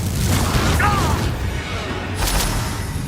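Confringo blasting spell in Hogwarts Legacy bursting into a loud, broad boom with a crackling rush, followed by a second, briefer burst of blast noise.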